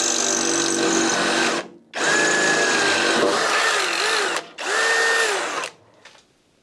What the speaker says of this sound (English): I need to drill a hole for that and then attach it